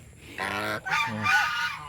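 A goose gives two or three loud, nasal honks in quick succession, close by, with no talking.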